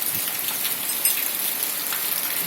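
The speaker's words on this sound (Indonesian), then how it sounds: "hujan deras banget gitu." Heavy rain with strong wind in Ponorogo falls as a steady, close hiss of drops striking surfaces, with a few brighter spatters and no voices.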